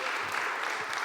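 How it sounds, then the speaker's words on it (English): Audience at a venture mentoring network lunch breaking into dense, steady clapping that fills the whole moment at close range. "they deserve a round of applause."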